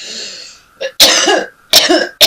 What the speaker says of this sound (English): I've had a very bad cough for the last week